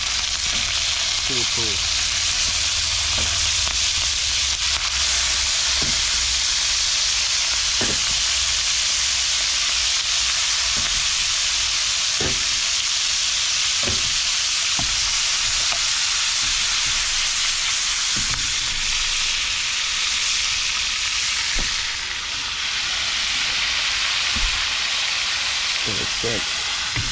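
Shrimp frying in hot oil for a Jamaican shrimp and ackee dish make a loud, constant hiss that runs throughout. Sharp clicks and spatters break through now and then, and a voice speaks briefly.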